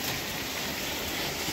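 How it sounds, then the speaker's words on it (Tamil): Heavy rain falling at night around 8 pm after a full day of downpour, a dense, steady hiss of drops on surfaces, loud and unbroken with no voices. "இப்போ பார்த்தீங்கன்னா எனக்கு நைட்டு ஒரு 8:00 சரியாக மழை பெஞ்சிக்கிட்டு இருக்கு."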